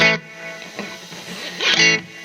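Electric guitar notes drenched in reverb, a strum at the start and another near the end, with a long washy tail lingering between.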